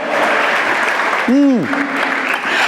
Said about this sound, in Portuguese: Dá um aplauso a Jesus aí.